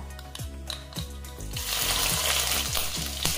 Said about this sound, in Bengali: এবারে এই মশলাগুলো তেলে একটু ফ্রাই করে নেব